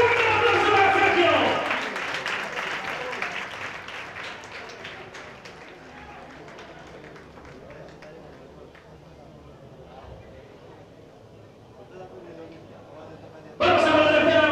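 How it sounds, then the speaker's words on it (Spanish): Loud applause and cheering from a crowd at a national bull-dodging contest in El Burgo de Osma, Spain, at the start, fading into a quieter murmur, then a fresh burst of clapping right at the end. "Vamos a agradecer fuerte el aplauso"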